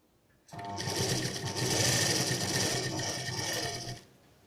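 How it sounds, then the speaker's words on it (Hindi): A sewing machine stitching a cord onto a kurti neckline runs in one steady, close, rattling burst of about three and a half seconds, starting and stopping abruptly. "एकदम कॉर्ड के बराबर से मैं सिलाई लगा लूंगी।"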